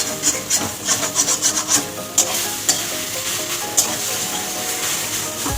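Leafy greens frying in oil in a kadai: a constant crackling sizzle with rhythmic scraping strokes of a spatula against the pan, close and fairly loud, no talking.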